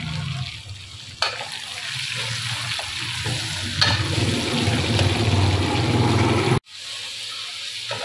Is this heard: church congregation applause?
no